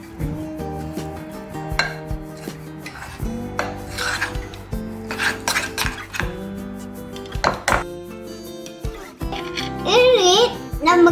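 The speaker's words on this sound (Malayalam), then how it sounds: "സ്പൂൺ വെച്ചിട്ട് മിക്സ് ചെയ്യാം." A spoon mixes homemade Bourbon biscuit batter in a bowl, making repeated close scraping and rubbing strokes with small clinks against the sides, while people talk over it.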